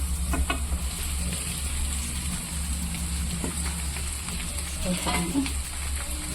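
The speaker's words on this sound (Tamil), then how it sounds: "மிக்ஸ் பண்ணிக்கலாம் நல்லா" Paneer fried rice is stirred and tossed in a hot pan, a steady sizzle with scraping and clinking stirs throughout, close by.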